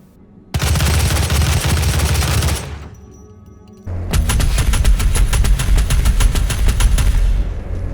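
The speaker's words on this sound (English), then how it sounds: "especially with the machine gun, they sound even worse than Doom 4" Rapid machine gun fire from the video game Doom 5, two long loud sustained bursts separated by a brief pause, harsh and dense with no voices.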